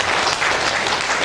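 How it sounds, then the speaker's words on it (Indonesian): A crowd at a formal gathering claps steadily as a professor is introduced, dense applause held at an even level for about a second without pause. "Tepuk tangan untuk Pak Fasli."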